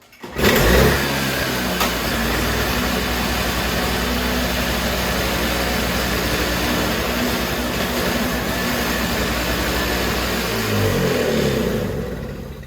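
A Toro single-stage snowblower engine starts with a brief pull and then runs at a steady loud roar, close by and constant, before easing off at the end; no talk.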